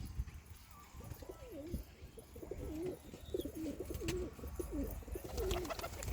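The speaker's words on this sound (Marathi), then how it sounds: "त्याला बोलतात कबूतर" Repeated soft pigeon coos, close by and fairly quiet, coming in a steady series over a low background hum.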